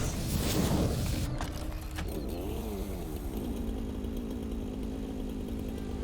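A chainsaw runs in the factory-building video game Satisfactory, a loud buzzing whine that revs hard at first, then settles into a steady droning idle that continues throughout.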